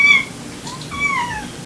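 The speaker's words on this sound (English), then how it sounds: "You guys hear my kitty?" A pet cat lets out two short meows, close and clear, with a brief pause between them in an otherwise quiet indoor room.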